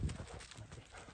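Horse hooves clip-clop on firm ground as a horse for sale is led and turned left and right, a quick, close run of uneven steps over about a second.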